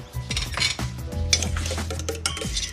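Egg yolks are stirred quickly into an evaporated milk mixture in a pot, with continuous scraping and clinking of a utensil against the pan, close up and steady with no talk.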